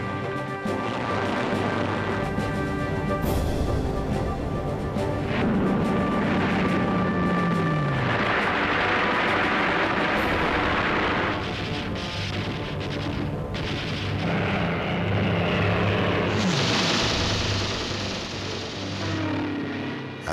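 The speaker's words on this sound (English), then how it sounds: "The sky was full of dogfighting aircraft as the German formations broke up and scattered." WWII Spitfires and Hurricanes dogfight German raiders over London, with loud, continuous engine roar and diving aircraft whines layered under bursts of gunfire and crashing booms throughout.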